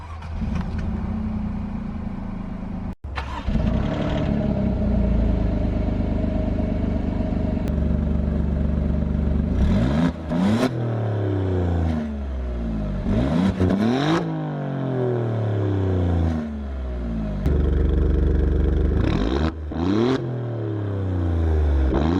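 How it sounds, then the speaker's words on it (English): An Alfa Romeo Giulia Quadrifoglio starts up with a sharp crank, then its engine flares loudly and settles. Repeated rising revs swell and fall close by, with no talking over them. "Let's start it up."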